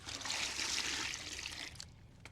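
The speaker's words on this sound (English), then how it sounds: "Fill a bucket with water." Water runs into a bucket as it fills, a steady, fairly quiet splashing trickle that stops near the end.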